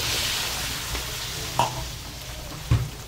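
Onion added to hot cooking oil in a pan gives a steady crackling sizzle, with a couple of louder stirring clunks over the frying hiss.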